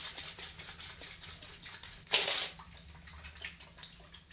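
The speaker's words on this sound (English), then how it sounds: "I'll end off the entire shave with RazoRock The Dead Sea Aftershave Splash" RazoRock Dead Sea aftershave splash is patted onto the skin in one short, bright wet slap, standing out briefly against a quiet room with faint small rustles around it.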